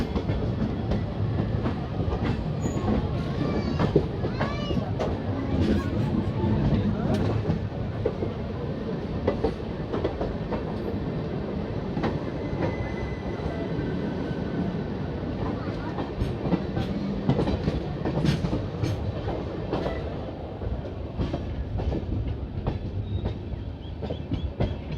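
Shri Ganganagar–Delhi Intercity Express train in motion, heard from onboard as a steady, loud rumble with rhythmic clickety-clack of the wheels over rail joints throughout.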